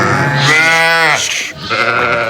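Lambs at a sale of fat-tailed ewes with lambs, with one loud close bleat lasting about a second, followed by fainter bleating and livestock noise.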